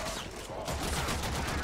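Rapid gunfire from the video game Warframe, dense overlapping shots forming a continuous loud barrage that intensifies partway through.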